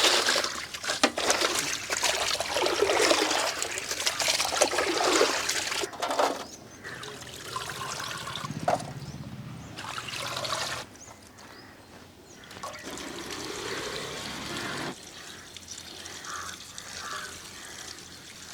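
Water trickles and splashes steadily while cleaned asara fish are rinsed, a close, continuous running flow with short breaks and shifts in intensity, no talking.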